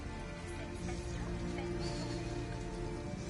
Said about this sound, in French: Et en plus il pleut.